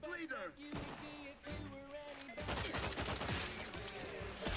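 Gunfire in The Outer Worlds 2 video game, a dense burst of rapid shots in the second half, preceded by a voice speaking and tonal game sounds.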